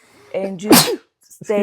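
A single loud sneeze bursts out in the middle of a casual podcast conversation, with people talking just before and right after it.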